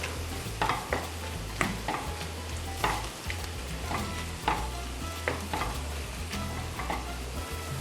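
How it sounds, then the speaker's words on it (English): Shrimp frying in a pan for camarones emperador, a steady broadband sizzle with repeated clinks and scrapes of a utensil stirring at an uneven rhythm, close and fairly loud with no talking. "we're gonna let these boil up, not boil up, we're gonna fry these"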